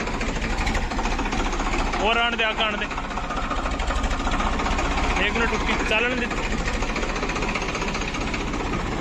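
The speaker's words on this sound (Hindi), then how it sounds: "पीछे पीटीओ चल रहा है" A tractor engine runs steadily with its rear PTO engaged, a continuous loud mechanical drone and rattle throughout, while people talk over it.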